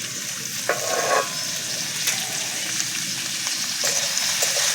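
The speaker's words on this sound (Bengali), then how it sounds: "হালকা করে ভেজে নেব। নুন দেওয়া যাবে না এই সময়" Onion stalks fry gently in a very small amount of oil, giving a soft, even sizzle with occasional spatula scrapes and stirring knocks, moderately quiet and close, with no talking.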